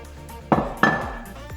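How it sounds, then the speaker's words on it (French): A utensil knocks twice against a pot while a melted coconut macaron mixture is stirred, giving two sharp metallic clanks with a brief ring, then a faint tap. "Puis on mélange"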